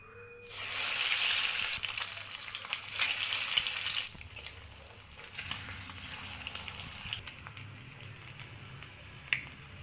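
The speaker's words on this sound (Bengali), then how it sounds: "এবার ডিমগুলিকে ভালোভাবে ভেজে নেব" Eggs fry in hot oil in a kadai, a loud crackling sizzle that bursts in strong waves over the first four seconds, then settles into a steadier, softer hiss with a sharp pop near the end.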